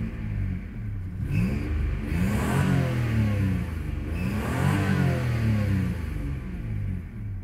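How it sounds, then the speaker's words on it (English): A Rover 827 Sterling's engine revs while the car sits in neutral, rising and falling in several close, loud surges over a steady idle rumble. "Let's give it a rev."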